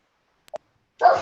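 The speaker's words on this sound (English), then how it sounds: "Why do dogs have to do this on Zoom? Can you hear her barking?" A dog gives two brief clipped yips close by, then one louder, longer bark after a short pause, with no talking over it.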